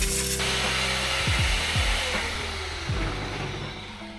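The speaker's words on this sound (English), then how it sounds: "Now we just have to blow out any remaining debris" Compressed air hisses steadily from a blower nozzle, clearing leftover debris out of a Mini Cooper S R53 interior during restoration, with a few brief whooshing sweeps and a faint hum beneath, fading slightly toward the end and with nobody speaking.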